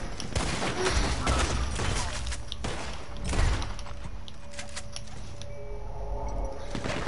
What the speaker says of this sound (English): Where's this guy shooting his damn gun at?